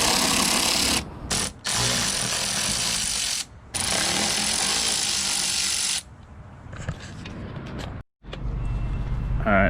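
A powered ratchet wrench backing out bumper bolts on a 2020 facelift Mercedes-AMG C63 S, loud buzzing whirs in several long bursts broken by short pauses, with quieter handling noises afterward.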